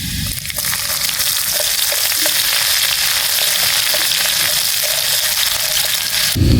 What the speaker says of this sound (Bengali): এখানে পেঁয়াজটা লাল করে ভেজে নিয়েছি